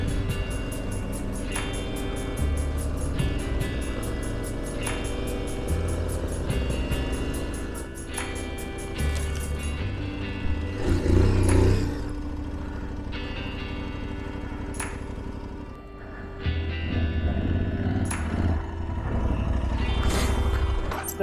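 BMW GS motorcycle riding through sand near Merzouga in Morocco, with the heavier front end on a 19-inch wheel: a steady engine drone runs throughout, swelling briefly midway, loud and close.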